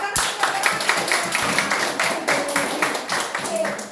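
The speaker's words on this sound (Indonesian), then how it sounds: "Tepuk tangan untuk Fikra." Classroom clapping for a student, a brisk run of many hands clapping close by and fairly loud, with a voice faintly mixed in underneath.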